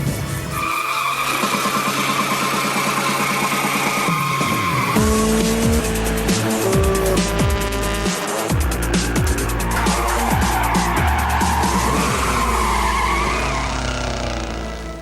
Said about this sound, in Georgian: 2 ბორბლით დადის ჩემი მანქანა